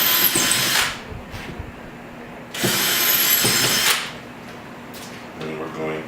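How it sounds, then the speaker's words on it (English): Power drill boring holes in a wall to mount a cleat for hanging a painting, two loud whirring bursts with quieter handling noise and light rattles between them, close up. "We're going to drill out the other two holes."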